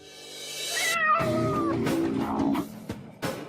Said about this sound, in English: Carpenter found one right at his feet: the household cat.